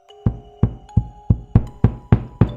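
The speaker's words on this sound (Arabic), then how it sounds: "سمعت طرق خفيف على الحيط" Seven light, evenly spaced knocks on a wall, each a dull close thud with a short decay, heard alone against quiet with a faint tonal hum behind.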